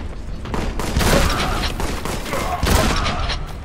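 Rapid gunfire from the Warhammer 40K Boltgun video game, a dense fusillade of booming shots with two heavier bursts, loud and close throughout.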